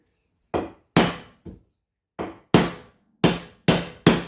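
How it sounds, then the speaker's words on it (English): Eight sharp hammer taps in irregular groups, each a crisp woody knock with a short decay, close and loud against silence. "And I have a hammer here to tap on the top."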